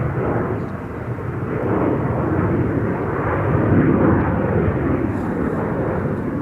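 An Embraer E2 jet bound for Aberdeen takes off from Schiphol's Polderbaan runway, a loud, continuous engine roar that swells and holds with no speech over it.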